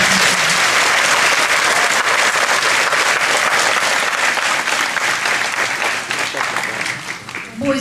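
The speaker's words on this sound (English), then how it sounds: "giving all of our kindergartners a round of applause" A crowd claps for kindergartners at an elementary school graduation, broad continuous applause from many hands filling the room, holding strong before tapering slightly near the end.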